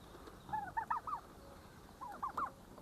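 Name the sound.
turkeys gobbling on a farm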